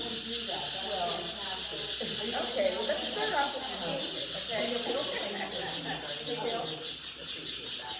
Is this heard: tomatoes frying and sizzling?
no